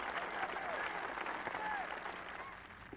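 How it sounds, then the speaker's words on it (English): A golf gallery at the 1988 tournament applauds a birdie putt on the 17th green, a dense, slightly distant round of clapping holding steady before easing off. "Lyle has heard the applause from 17"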